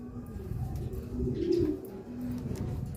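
Racing pigeons coo softly and repeatedly, a low warbling murmur close by with a steady muffled background.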